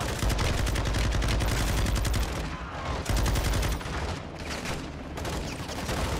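Sustained automatic gunfire from a Call of Duty: Modern Warfare II battle, loud dense bursts of rapid shots with a couple of brief lulls before the firing resumes.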